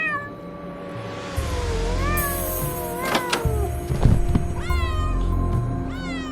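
A cat meows repeatedly in a tense horror story scene, several drawn-out, rising cries close and clear over a low background drone, with a soft thump partway through.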